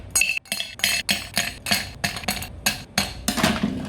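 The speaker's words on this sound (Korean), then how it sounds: "그 다음 쉐이커에 얼음을 8개에서 10개 정도 넣어줍니다." Ice cubes dropped one after another into a metal cocktail shaker while mixing a Sea Breeze cocktail, about a dozen sharp clinks and rattles in an uneven rhythm, close and clear, with no talking.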